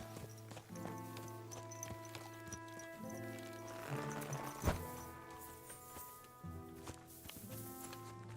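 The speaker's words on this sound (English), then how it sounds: "Easy, good horse." In a video game, horse hooves clip-clop at a steady walking pace, mixed with faint music tones and a louder burst partway through.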